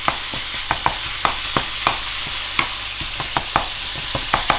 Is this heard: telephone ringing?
no